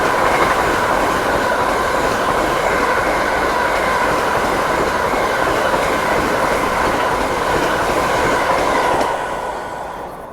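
A white-and-blue Vande Bharat express from Varanasi to Agra Cantt rushes past at full speed, a loud steady roar of wheels and rail noise with clattering carriages that fades slightly at the very end, no voices.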